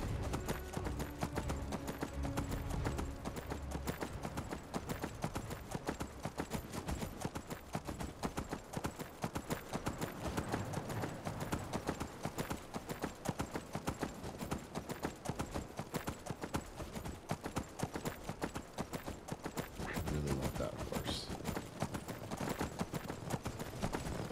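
Horse hooves clip-clop in a steady rhythmic gait while riding in the video game Skyrim, continuous and fairly close throughout, with faint game ambience behind.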